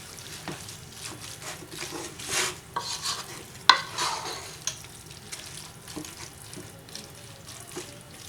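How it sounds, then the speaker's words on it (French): Spinach and fish being stirred in a pot, with soft scraping and wet stirring strokes and a few light clinks of the utensil against the pot, close and fairly quiet with no voices. "On mélange de façon homogène"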